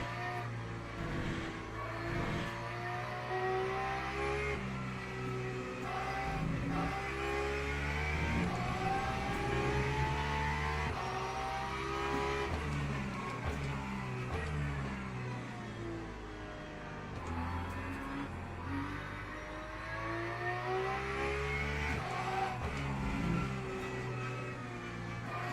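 LMP3 prototype race car engine in a racing video game at Spa, a continuous quiet drone rising and falling through gear changes across the whole stretch, with no talk over it.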